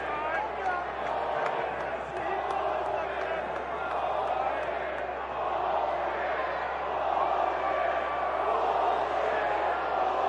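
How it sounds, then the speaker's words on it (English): Sustained, disgruntled roar from a baseball stadium crowd during a White Sox game, a broad continuous wash of voices lasting throughout with an announcer talking over it. "Crowd is very unhappy with Perez for not getting out of the way."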